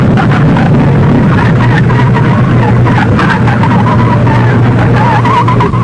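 A 1950s dragster making a quarter-mile run on an asphalt drag strip, a loud, sustained engine roar with rasping, squealing texture throughout, recorded close and heavily saturated.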